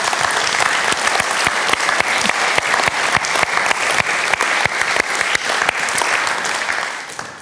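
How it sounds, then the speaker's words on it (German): A seated audience applauds steadily at a talk, dense rapid clapping that fills the room loudly and evenly throughout, tapering slightly at the very end. "dass wir vor allen Dingen mal ihr danken und einen Applaus für Sie haben"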